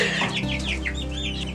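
A rooster on a homestead clucks nearby, giving a quick run of short, clear throaty notes over a low steady background.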